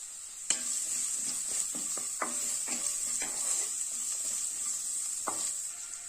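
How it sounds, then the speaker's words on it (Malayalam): Chopped onion sautés in a pan with ginger and garlic for a Kerala masala curry, with a bright continuous sizzle and a series of sharp spoon scrapes and taps against the pan. "ഇതിലേക്ക് 1 സവാള കട്ട് ചെയ്ത് വെച്ചിട്ടുണ്ട്. ഇത് ചേർത്ത് കൊടുക്കാം."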